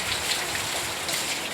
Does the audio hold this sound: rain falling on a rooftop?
yes